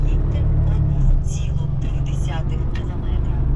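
A truck cab rumbles as the vehicle pulls away on the road toward a loading point, a low steady engine drone close by with road noise, while someone talks over it.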